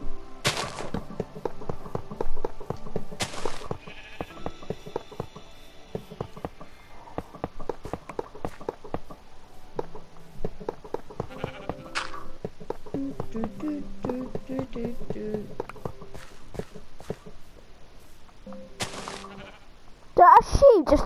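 Blocky sheep in the game Minecraft bleat repeatedly amid game thumps and footsteps, while a player talks over the scene.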